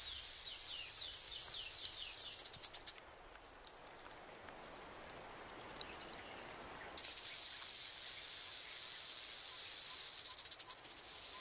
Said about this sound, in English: Rattlesnakes sound a more blatant alarm when people get too close.